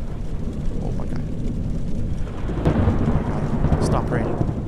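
Heavy rain pours steadily with deep thunder rumbling throughout a stormy scene in the horror game The Joy of Creation, loud and dense, with a few faint tones and noises over the storm.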